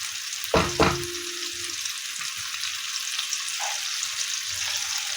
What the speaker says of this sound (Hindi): सारे मसालों को अच्छी तरह से भूनेंगे।